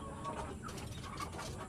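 Bangkok chickens on a farm in the rainy season cluck softly and intermittently at a distance, a few short calls over a low, steady background hum.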